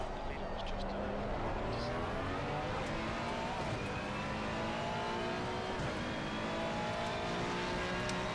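McLaren Artura race cars at Paul Ricard in a racing video game, engines revving and shifting steadily through gears, a loud continuous drone with other cars close by, while someone talks throughout.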